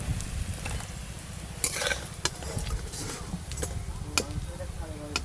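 Mustard flower fritters crisping in hot oil, a soft continuous sizzle with scattered clinks and scrapes of a utensil against the pan, close by.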